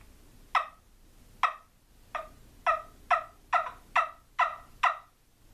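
Turkey yelps blown on a trumpet-style turkey call: nine sharp, evenly spaced notes at a steady rhythm, close and clear against a quiet background, no talking.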